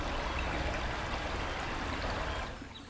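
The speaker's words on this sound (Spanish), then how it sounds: "el agua de hecho está sonando más abajo" Flowing water trickles and streams steadily through a virtual environment, a soft, continuous rushing wash that dips slightly at the very end.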